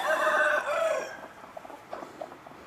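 Backyard chickens, hens kept loose and going broody: a loud, drawn-out call opens, then fades into soft, scattered clucks close by, with no talk.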